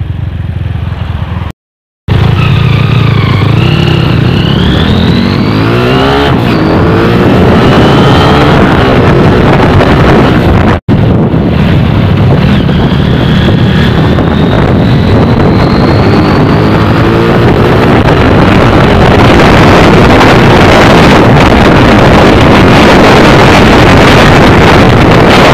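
Tiger 200 cc motorcycle on a test ride after a tune-up, its engine droning loudly under heavy wind buffeting, with rising and falling pitch as it accelerates and shifts, broken by a brief dropout near the start.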